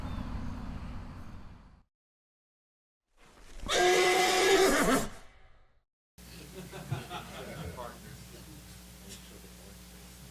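A horse gives one loud, clear whinny that rises and falls for about a second and a half between silent gaps. Muffled room noise and a voice come before and after it.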